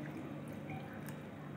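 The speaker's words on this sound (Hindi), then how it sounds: "और इसमें पानी को भी ऐड कर देते हैं" Water poured into a bowl of yeast, sugar, salt and milk for Turkish tawa bread dough gives a faint, steady trickle and splash throughout, with no talking.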